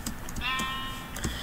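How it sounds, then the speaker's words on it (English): Sheep bleating in a Minecraft-style game, one long wavering bleat mid-clip over faint background game sounds, with short clicky noises around it. "And, oh, sheep."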